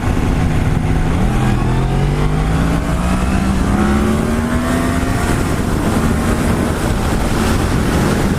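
A Yamaha MT-10 SP (FZ-10) motorcycle engine revs hard and loud under acceleration as the front wheel lifts, with a rising engine tone carried over steady heavy wind noise throughout.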